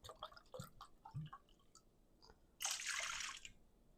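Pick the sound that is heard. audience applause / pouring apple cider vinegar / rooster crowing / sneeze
pouring apple cider vinegar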